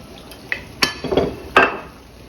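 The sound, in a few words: stirring shrimp and broccoli in garlic sauce in a pan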